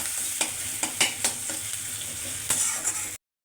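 Onion and dried chili frying in oil, a steady close sizzle broken by several sharp scraping stirs of a spatula.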